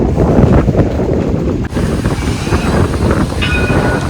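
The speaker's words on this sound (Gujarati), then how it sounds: "આ ટ્રામ છે, સિટીમાં છે, પ્રોપર મેલબર્ન સિટીમાં." A tram runs through Melbourne city, with a steady low rumble and rolling noise under wind buffeting, a brief dip in level midway, and a faint high squeal near the end.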